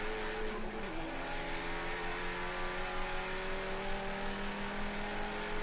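A race car engine at Summit Point racetrack holds a steady, loud drone at high revs, with one quick pitch dip early on, as Legends cars are passed in turn 1.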